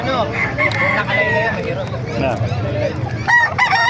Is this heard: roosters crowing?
yes